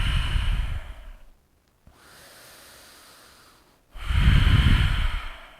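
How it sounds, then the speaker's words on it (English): Deep, slow breaths during a vinyasa yoga pose, close to the microphone: a long airy exhale, a quiet pause with a soft inhale, then another strong, full exhale. "Grab opposite elbows above the head. Few deep breaths here."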